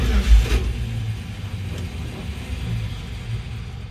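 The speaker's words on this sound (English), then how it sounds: "Let me crank it up and I'll let y'all hear the truck again and see the gauge working." A 1970 Dodge D100 pickup truck's engine runs in park with a steady, close, low rumble, after a brief louder surge at the start.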